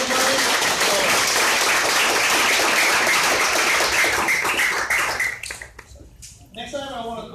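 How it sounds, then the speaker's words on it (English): Audience applause at a university VR workshop, a dense burst of many people clapping that thins and fades out over the last seconds, leaving scattered claps. "a big applause for Joe and Patrick who walked around and helped everybody"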